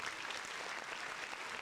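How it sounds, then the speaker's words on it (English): Sustained round of applause on a podcast, steady dense clapping throughout at an even level, alone without talk. "Congratulations. Round of applause."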